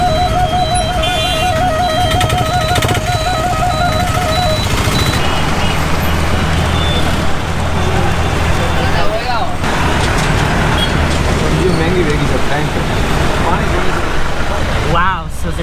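An open jeep drives along a road with a constant loud engine rumble and wind noise, and people talk over it throughout.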